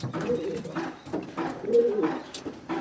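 Fancy, high-quality pigeons coo close by in low, throaty, rolling phrases that repeat in soft pulses across the whole moment.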